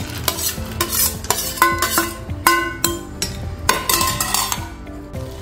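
Paneer, cashews and raisins get stirred into pulao rice cooking over low heat in a pot, with a brisk run of scraping strokes and metallic clinks from the spoon against the pot.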